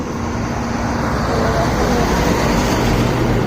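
Vehicle passing on a busy street in Pune, a steady loud roar of traffic rising slightly as it goes by, close to the microphone with no talk.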